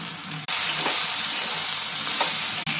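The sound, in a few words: poppy seeds frying with yardlong beans in a pan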